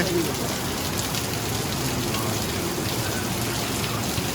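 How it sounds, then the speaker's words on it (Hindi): Steady, dense rainfall pours down continuously, a heavy wash of drops hitting surfaces with no pauses. "तेज बारिश हो रही है यहाँ पे।"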